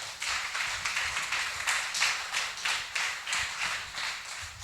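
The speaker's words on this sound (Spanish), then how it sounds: "Yo de ustedes estoy dando un aplauso al Señor, hermano, por eso." A church congregation claps together during a worship service, a dense, steady patter of many hands that rises and falls in loose pulses, close and fairly loud with no talking over it.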